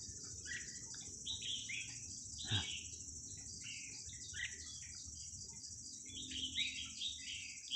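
Wild red-whiskered bulbuls give short, bright chirping calls outdoors at moderate distance, repeated in irregular bursts over a constant shrill insect drone, with no talking.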